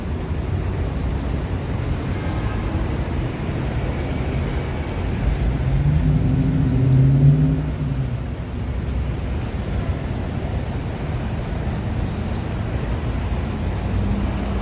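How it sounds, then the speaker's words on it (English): Heavy two-way traffic in Midtown Manhattan, New York: a dense, continuous roar of cars coming from Queens and Long Island, with one heavier vehicle rumbling past midway and swelling louder before fading. "It's pretty intense traffic. The traffic both ways."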